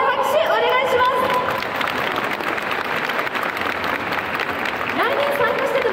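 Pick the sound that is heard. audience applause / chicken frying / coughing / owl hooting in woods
audience applause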